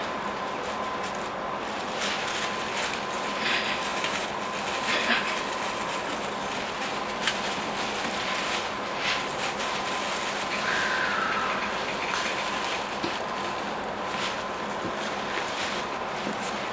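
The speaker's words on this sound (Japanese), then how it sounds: "電車東京行きです。まもなく発車いたします。" An E230 electric commuter train rumbles and hums steadily as it departs for Tokyo, with faint rhythmic clatter and a muffled, enclosed sound as if heard from inside the carriage.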